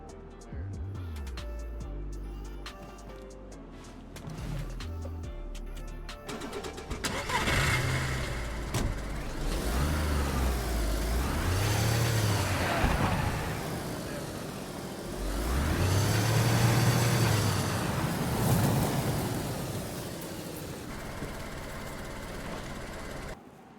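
A car engine in DayZ idles, then revs up and down in long swelling passes, the pitch rising and falling twice as it drives, fairly close, with a voice talking now and then.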